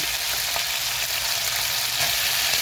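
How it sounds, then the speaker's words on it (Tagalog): Marinated chicken skin frying in hot oil, a loud, dense and steady crackling sizzle that fills the whole stretch without pause, with no one speaking. "Ako'y magpiprito ng chicken skin. Yung minarinate ko kanina."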